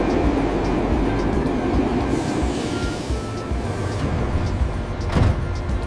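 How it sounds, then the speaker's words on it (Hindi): A metro train rumbles past in a city, a steady low mechanical roar with a rattling hiss, moderately loud and continuous, with a brief louder clack near the end. "प्यारे बच्चों देखो मेट्रो ट्रेन।"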